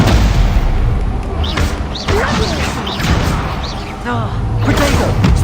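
Repeated Stupefy spell casts in Hogwarts Legacy: a string of loud crashing, booming impacts and whooshing effects over several seconds, with shouted game voices mixed into the steady battle din.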